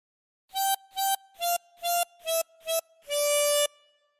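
A 16-hole tremolo harmonica plays a phrase of Twinkle Twinkle Little Star: six short, evenly spaced wavering notes, then one longer held note. The notes sound clear and close, with no voices.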